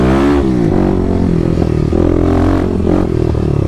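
A 2021 Kawasaki KLX300 fitted with a Power Commander accelerates close by. Its engine gives a loud, steady drone whose harmonics rise and shift as it pulls through the revs.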